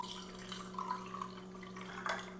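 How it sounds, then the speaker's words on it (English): Peach soda water poured into a glass of rosé sangria spritz, a steady close liquid pour with a light fizzing trickle and a few brief splashy bursts, no talk. "the actual spritz component of the Rosé Sangria Spritz is the peach soda water"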